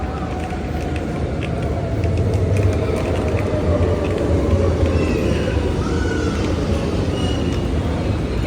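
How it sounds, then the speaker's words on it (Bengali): A metro train draws in with a loud, continuous low rumble and rising rattle that swells toward the middle and holds steady, close by, with faint background chatter. "আমাদের মেট্রো চলে আসতে আস্তে আস্তে"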